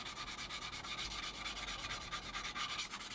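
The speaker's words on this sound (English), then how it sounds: "with our coarse sanding stick all the way along, just to give the whole spine of our fuselage section" A coarse sanding stick rubs rhythmically along the spine of a plastic 1/48 scale Junkers Ju 88 A-4 model fuselage, giving close, fast repeated scratchy strokes with no talking.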